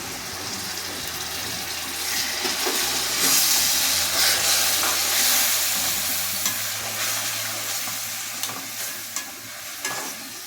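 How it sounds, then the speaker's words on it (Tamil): Ground tomato paste poured into sautéed onions in a pan for vendhaya kuzhambu hisses into a loud, steady sizzle that swells as the liquid hits the hot oil, with stirring and no voices. "இந்த நேரத்தில் நம்ம தக்காளி அரைச்சி வச்சுக்கணும் பாரு. இதை ஊற்றிக்கணும்."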